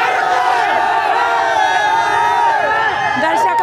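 A large crowd of moviegoers outside a cinema after a Pathaan screening, with loud, continuous cheering, whooping and shouting that stays dense and sustained throughout.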